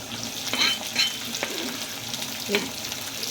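Chopped garlic and onion sizzle loudly in a hot pan, a steady close frying hiss broken by a few brief scraping stirs, with no talking.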